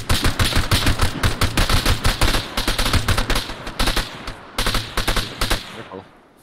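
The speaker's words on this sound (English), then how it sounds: "They did, in fact, shoot me first." Rapid bursts of video game gunfire from enemies shooting at the player, dense and loud throughout, with sharp repeated automatic shots and brief gaps before trailing off at the end.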